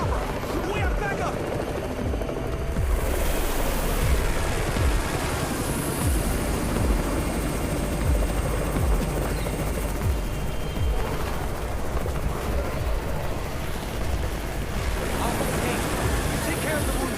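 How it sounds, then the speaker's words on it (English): A helicopter arriving in the video game Undawn, its steady rotor drone running the whole time beneath voices, with scattered sharp bursts that may be gunfire. "It's the Raven's chopper! We have backup!"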